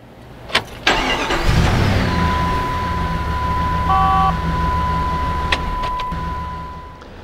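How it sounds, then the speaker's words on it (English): A car engine cranks briefly and then fires and settles into a steady idle, heard close up in a service stall with no one talking. "Now what we're going to do is crank the engine."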